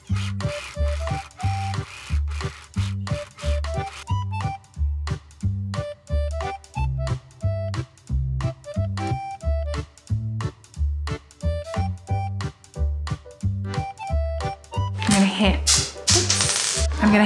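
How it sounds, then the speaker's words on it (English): A serger finishes the edge of a pleated fabric bra cup for a bustier dress, running in close, rhythmic bursts of rapid mechanical stitching with short stops, over a faint music bed. "Now I'm just going to finish the edge with serging"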